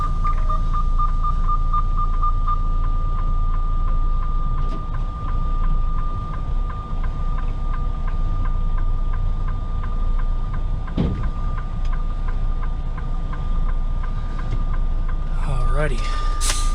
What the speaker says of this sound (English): One thing about these Freightliners, they sure do like to beep.